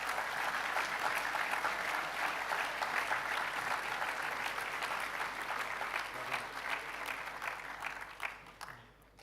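A moderate crowd at a school assembly claps continuously, fairly distant and even, then the applause thins out and fades at the end.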